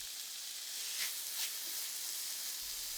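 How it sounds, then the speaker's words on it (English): Onions sautéing in olive oil with mushrooms for risotto, a faint, even hiss of gentle frying with a couple of slightly louder sizzling swells. "Sauté everything for another 3 minutes until translucent"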